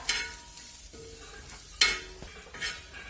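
Coriander leaves being sautéed in a pan while making drumstick curry, with quiet stirring scrapes and a brief sizzle, louder bursts near the start and middle and no voices.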